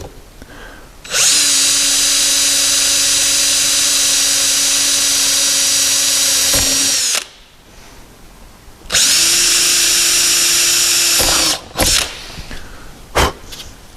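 A drill bit bores through fiberglass door sill trim on a car in two long, steady high-pitched whining bursts with light pressure, separated by a pause and followed by brief clicks and knocks.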